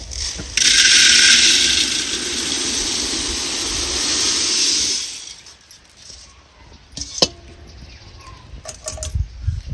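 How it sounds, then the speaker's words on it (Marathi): Puffed rice tossed and stirred in a thick, heated pot while making chivda, a loud dry rattling rush for several seconds that then drops to sparse scrapes and clinks. "आता आपण ह्याच्यामध्ये लाह्या घालूया।"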